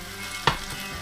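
Jalapeños and onions sizzle softly in olive oil in a pan, with one sharp clack of a utensil midway through the short stretch of steady frying.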